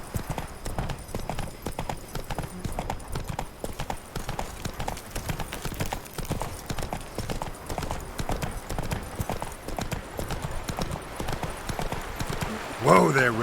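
Roach the horse trots along in The Witcher 3, hooves clip-clopping in a steady quick rhythm close by, with a voice speaking over the hoofbeats and a brief neigh near the end.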